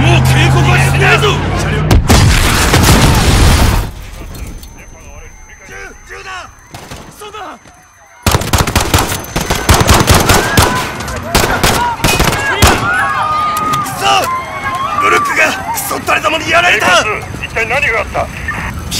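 Gunfire in the video game Call of Duty: Modern Warfare, during a campaign mission at Piccadilly Circus: loud, dense bursts of gunshots in bands, with a quieter lull in the middle, mixed with shouted voices and chaotic street noise.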